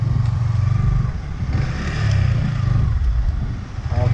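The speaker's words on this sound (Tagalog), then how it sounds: "Baka sundan na lang natin yung mga motor na yan." Motorcycles on the Manila North Road in Malolos, Bulacan give a continuous droning engine rumble that swells and fades as bikes pass, with general road noise around them.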